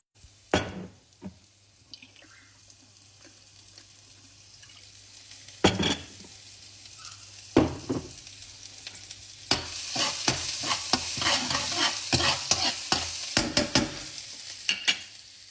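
Ginger and several kinds of chilies fry in a pot on a stove, with scattered scrapes and clatters early on, then a busier stretch of sizzling and stirring knocks later, all close.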